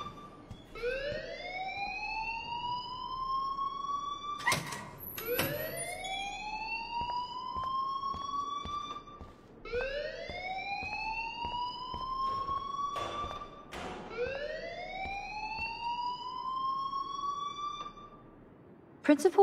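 A rising and falling electronic alarm siren in the game Life is Strange, wailing in repeated sweeping cycles with sharp clicks between them, loud and continuous with no voices.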